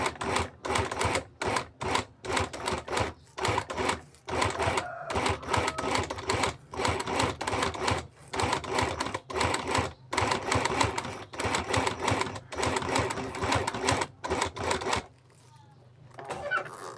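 A sewing machine stitches a bag in rapid repeated bursts of mechanical clatter, stopping and starting in short runs close up, then falling quiet near the end.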